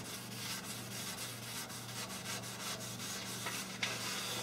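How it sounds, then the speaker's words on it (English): Sandpaper rubs rhythmically back and forth over a rusty, pitted cast table saw top, a steady gritty scraping close by with quick repeated strokes and a faint hum underneath; nobody speaks. "if there's some real heavy pitting, like right here, then you might have to use a little bit of sandpaper on it"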